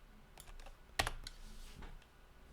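Keys tapped on a computer keyboard, a few light clicks followed by one sharper, louder keystroke near the middle and a couple of softer taps, close up in a quiet room.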